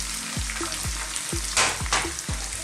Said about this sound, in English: Now what we're going to do is add some onion. I'm using a red onion and it's finely chopped.